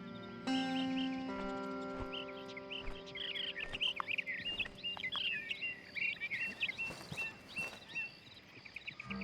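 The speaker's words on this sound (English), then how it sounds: "Hear the morning call of the bird." Morning birdsong in Red Dead Redemption 2, bright chirps and trills coming in quick bursts over a steady tonal game ambience, moderately loud and with no voices.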